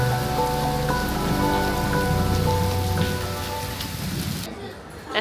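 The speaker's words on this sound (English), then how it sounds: "After we got drenched in a downpour at the monastery" A heavy downpour pelts the grounds of a monastery in Taiwan, a dense, steady hiss of rain on surfaces that stays loud throughout, with faint voices murmuring underneath.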